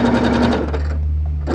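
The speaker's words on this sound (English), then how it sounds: "We're going to start sewing." A sewing machine stitches fabric at close range in one steady, loud mechanical whir that slows and fades near the end.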